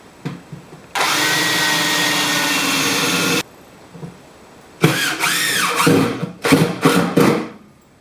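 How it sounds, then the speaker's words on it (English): A power drill drives screws into a wooden lid with loud bursts close by. One long whirring run is followed by several shorter pulses whose pitch climbs and drops as the screws bite, with no talking. "I'm just going to whack a few screws in to hold the lid down."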